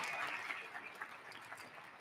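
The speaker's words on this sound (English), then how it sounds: "Let's give her a nice round of applause." A crowd at a university commencement ceremony gives a round of applause, a distant, soft wash of many hands clapping that stays steady and quiet.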